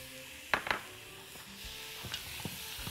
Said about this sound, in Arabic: بدأت تتحمر، أقوم منزلة عليها البصل، بصل متقطع شرايح